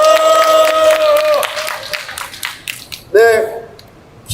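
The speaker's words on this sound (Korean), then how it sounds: "다시 한번 뜨거운 박수 보내주시기 바랍니다" Scattered clapping and cheers come from a crowd at a construction workers' protest rally outside Anyang Station, mixed with sustained tonal sound and voices. The clapping swells in short bursts, then thins out.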